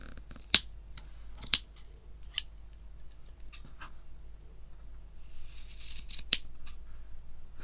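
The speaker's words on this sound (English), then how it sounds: "So from there you can just trim the base of this tassel." Scissors snip the base of a thread tassel for earrings, giving a few sharp, close cuts spaced out over quiet handling noise, with no talking.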